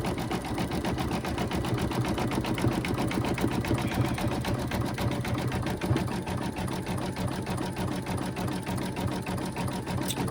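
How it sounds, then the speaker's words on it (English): An embroidery machine stitches a satin stitch border on an Easter table runner, its needle hammering in a fast, even rhythm close up, loud and unbroken throughout. "this is going to be a lot of layers that it's doing that satin stitch around"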